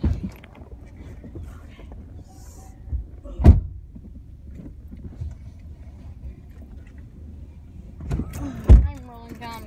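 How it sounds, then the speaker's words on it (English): Electric power window of a hot parked car rolling down, a soft motor whir with a couple of sharp thumps and clicks, close by, with faint background chatter. "I'm rolling down this window for a reason."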